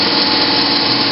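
A 1986 Mazak QT20N CNC lathe runs in gear 1 at 1200 RPM, giving a steady, loud, broadband mechanical whir and hum that holds unchanged throughout with no talk.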